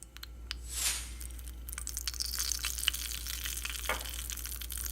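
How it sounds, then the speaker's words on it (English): Mustard seeds crackle and spit in hot oil while sambar is being made, a steady low sizzle dotted with small sharp pops and a brighter burst of crackling near the start, close and fairly quiet. "the mustard seeds have started popping"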